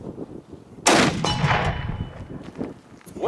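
A single sharp report from a .300 Win Mag Accuracy International Mk13 sniper rifle fired at a range, loud and sudden, followed by a ringing decay and faint echo.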